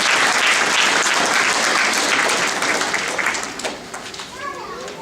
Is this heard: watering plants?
no